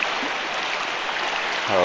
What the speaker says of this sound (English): You can see the creek's moving pretty good.